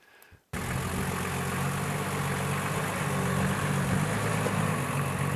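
A modified 60 series LandCruiser with an aftermarket CT26 turbo and a 12HT engine idles steadily after a brief quiet start, a close, even, low rumble with no talk over it.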